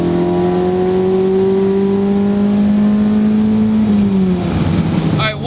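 A Honda Civic Si EM1 engine revs hard into VTEC, its loud, close, rising drone climbing steadily before the pitch drops as the revs fall away near the end.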